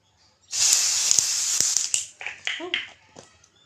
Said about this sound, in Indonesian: Coba ya, kita spray, kita semprot wajahnya.